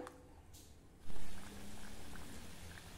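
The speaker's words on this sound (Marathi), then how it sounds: "तेल मध्यम गरम झालं की यामध्ये तयार कचोऱ्या घालूया।" Medium-hot oil bubbles and sizzles softly, then rises to a louder frying hiss as pigeon pea kachoris go into the pan and keep crackling.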